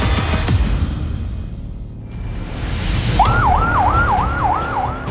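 A siren wails in a fast up-and-down pattern over loud, rumbling street noise, starting partway through and continuing steadily to the end.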